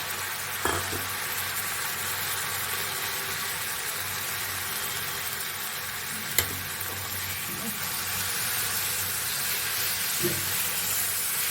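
Cauliflower leaf paste ground with green chili frying in a pan with garlic, a steady broadband sizzle and hiss running throughout, with a couple of brief sharp clinks of a spoon against the pan.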